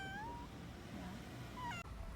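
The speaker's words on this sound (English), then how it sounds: "So many of the cats on the side of the street were happy to chill out, have a little talk with you" A street cat on Ishigaki island meows twice, drawn-out rising cries close by over a faint, steady outdoor background hum.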